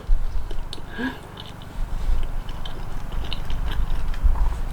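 Someone bites into buttered laugen pretzel bread and chews, with a close crunchy bite followed by steady, soft mastication sounds in the foreground.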